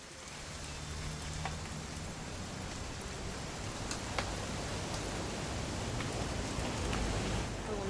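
Continuous rain in What Remains of Edith Finch forms a broad, steady hiss, with occasional sharp ticks of drops striking nearby and a faint low tone underneath, no speech.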